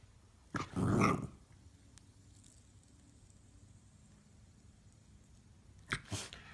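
A Shiba Inu dog reacts to a fidget spinner with a loud, close snort or sneeze-like huff, then a quiet stretch and a second shorter burst of snuffling near the end.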